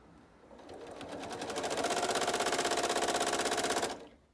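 A sewing machine stitches fabric for a quilting project, its rapid, even needle clatter building from a slow start to a steady fast run and stopping abruptly, close and loud with no talking.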